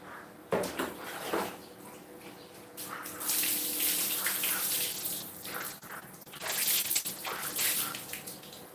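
Tap water runs and splashes steadily while a small dog is bathed during a Songkran water celebration, with louder gushing bursts in the middle and near the end and wet handling sounds between.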